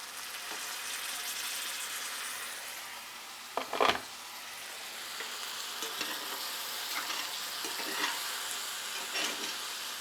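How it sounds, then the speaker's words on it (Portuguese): Chicken frying in a pan with water being poured in, a steady soft sizzle and stirring throughout with one brief louder splash near the middle, recorded close and at low level without talk. "E aqui a gente já vai colocar a segunda água do frango."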